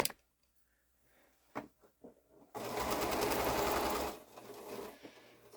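A sewing machine stitches quilt fabric in a steady whirring run of about a second and a half, preceded by a few soft clicks and handling knocks, close and quiet.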